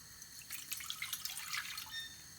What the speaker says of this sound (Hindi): उसमें डालूंगी मैं आधा लीटर जितना पानी,